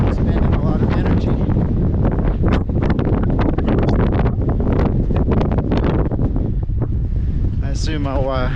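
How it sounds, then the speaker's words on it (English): Wind blows hard across the shaded side of a mountain trail on Guadalupe Peak, buffeting the microphone in a loud, continuous rush, with a brief voice-like sound near the end. "A lot more wind on this side, some shade."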